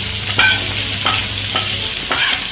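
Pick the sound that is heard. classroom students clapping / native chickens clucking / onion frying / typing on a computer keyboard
onion frying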